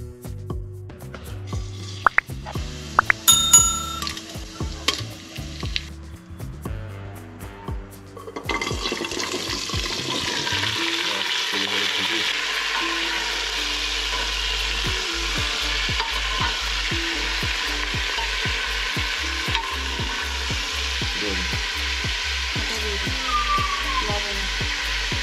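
Vegetables for khichuri frying in a little oil give a steady, loud, dense sizzle that runs for most of the clip with regular scraping stir strokes, after a brief stretch of clattering kitchen noise at the start.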